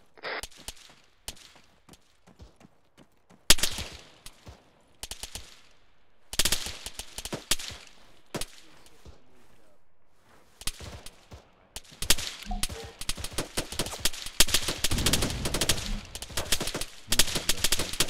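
Gunfire crackles in the military shooter game Arma: scattered single shots and rapid bursts, some sharp and close, others fainter, with short quiet gaps before the shooting grows denser and more sustained toward the end.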